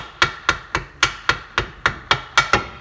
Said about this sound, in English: I'm just gonna get a ball peen hammer